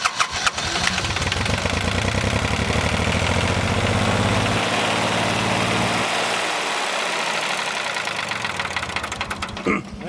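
John Deere tractor diesel engine cranking after fuel bleeding, rapid rhythmic knocking as it tries to catch, then a loud rough running stretch before it dies down; close and noisy throughout.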